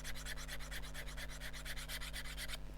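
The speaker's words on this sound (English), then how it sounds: "So I'm going to hone what will be the underside" Rhythmic back-and-forth rubbing of a hone along the lower bevel of a woodturning tool, steady strokes about eight per second, close and quiet over a constant low hum, no talk.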